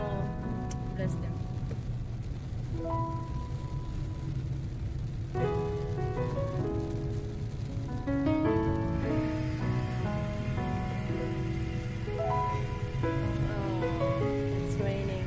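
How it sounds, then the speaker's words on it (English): Rain falling steadily outdoors in Doha, a continuous wash of noise throughout, with several people talking over it close by. "Oh, it's raining."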